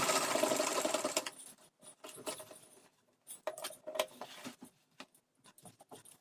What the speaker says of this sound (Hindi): यहाँ पे हम स्टिचिंग स्टार्ट करेंगे